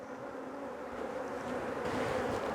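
Honey bees buzz steadily and densely at an open hive being fitted with a queen excluder, a close, continuous drone that holds level and swells slightly toward the end.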